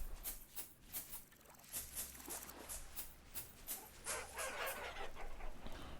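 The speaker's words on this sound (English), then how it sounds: "it sounds like there's a bunch of chickens in there" Chickens in the video game Vintage Story cluck in quick, soft bursts with pattering footsteps, a faint, busy flock sound with no talking.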